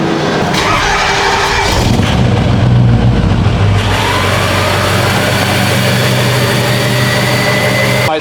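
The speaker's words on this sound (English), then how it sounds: "I'm gonna fire up the truck right now, show you guys exactly what's going on." A Ford 6.0L Powerstroke diesel truck with a misfire on cylinder 3 starts from cold and runs with a loud, rough, uneven clatter up close, its idle unsettled throughout.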